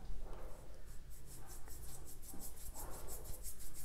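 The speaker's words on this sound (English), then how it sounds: "I'm using an angular brush to paint this. Cut those fine edges." An angular paintbrush drags across canvas in soft, slow rubbing strokes, faint and close, with a couple of longer sweeps repeating in a steady rhythm.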